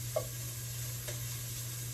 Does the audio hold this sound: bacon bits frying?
yes